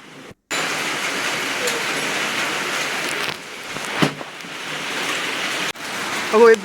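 Heavy rain pours down in a steady, loud hiss, broken by a brief pause and a few knocks, with a voice briefly at the end.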